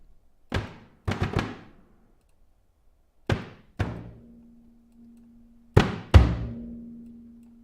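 Deep cinematic drum hits from the Auddict Drums of the Deep sample library, a sparse series of heavy booming strikes with long decays, a few in quick pairs, and a low sustained tone ringing under the later hits.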